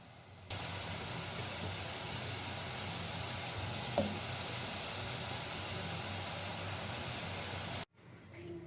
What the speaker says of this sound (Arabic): ودابا غادي نبداو نقليو